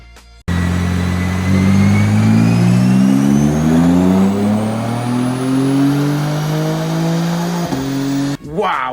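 A tuned car on a dynamometer, running E30 ethanol fuel on a BOOTMOD3 off-the-shelf map, revs hard through a long pull, its engine note climbing steadily and loudly for several seconds before cutting off abruptly.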